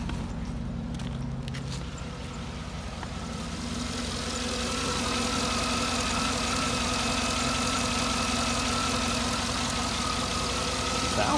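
A 2009 Cadillac Escalade's V8 engine idles steadily and close by after spark plug and O2 sensor replacement, a low rumbling hum that grows slightly louder and fuller after the first few seconds, with no talking.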